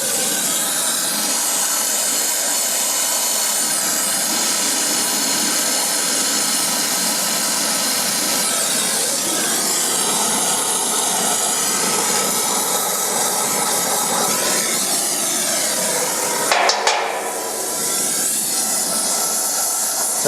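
A gas torch flame roars in a steady, loud broadband hiss while preheating copper pipe for brazing, holding constant for about twenty seconds with a brief sharp flare near the end, close up and without speech.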